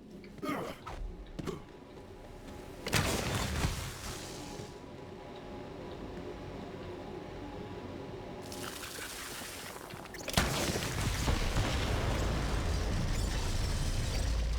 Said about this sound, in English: The explosion echoed through the forest